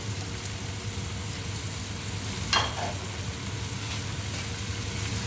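Courgettes and butternut squash sizzling in a hot pan: a continuous soft fry with one brief clatter or stir midway, close and even, no voices.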